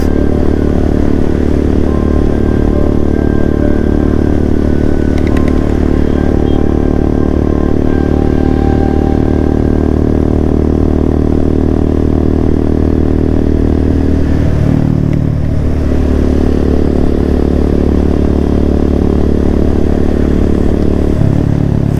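A motorcycle is ridden on a Sunday ride in rainy weather, its engine droning loud and steady close to the mic for the whole stretch, with a brief dip and wind rumble, and no talk.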